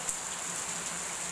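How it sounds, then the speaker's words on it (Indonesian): Heavy rain pours down in a steady, dense hiss across the whole stretch, close and continuous with no voices over it. "Hujannya deras banget."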